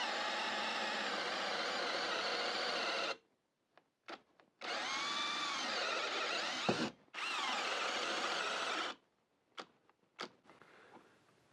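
Hyper Tough 80045 brushless hammer drill on high speed boring with a 1-inch spade bit into wood: two loud sustained runs of motor whine and cutting, separated by short stops and brief bursts, with no talk.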